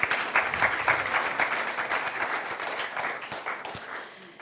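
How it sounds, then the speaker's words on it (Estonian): An audience at a student company competition gives a round of applause after a stage presentation, dense clapping of a sizable crowd, fairly close and steady, tapering slightly toward the end. "Teeme aplausi"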